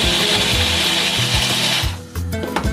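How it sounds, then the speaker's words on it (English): A loud, whirring blender motor runs steadily for about two seconds blending ingredients including parsley, then cuts off, leaving softer clatter and knocks nearby. "and we just popped it all in the blender"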